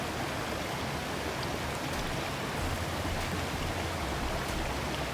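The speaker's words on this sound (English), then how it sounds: "And we're at a stream crossing to get some water." Stream at an Appalachian Trail crossing, a steady, close wash of rushing water with no voices.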